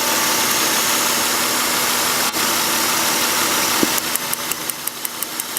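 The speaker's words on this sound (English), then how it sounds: "Alright, the engine is no longer vibrating or shaking how it was." A Honda Accord V6 engine idles steadily after an ignition coil fix, a close, even, loud hum with a faint regular ticking that shows near the end.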